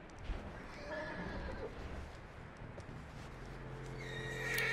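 A horse in the video game Red Dead Redemption 2 whinnies amid clip-clopping hooves and game ambience, steady and fairly close, with a brief sharp thump near the start.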